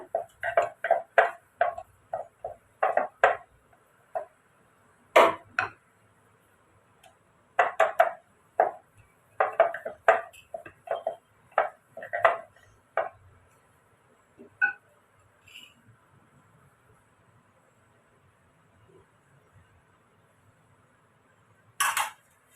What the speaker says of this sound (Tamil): எவ்வளோ வெங்காயம் பொடியாக நறுக்கணுமோ அவ்வளோ அளவுக்கு நீங்கள் வெங்காயம் பொடியை நறுக்கிக்கோங்க